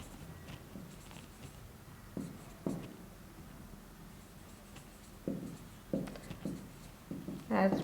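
Handwriting a maths definition on paper, soft scratching pen strokes running steadily with occasional louder taps and scrapes, quiet and close.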